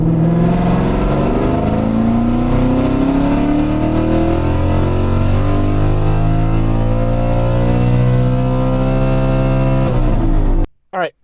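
A naturally aspirated Ford Mustang on a chassis dyno pulls hard and loud in one long steady climb in engine pitch, a droning roar that cuts off abruptly at the end.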